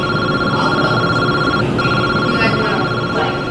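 A telephone rings with an incoming robocall. The ringtone is loud and close and holds steady, pausing only briefly, with no one speaking.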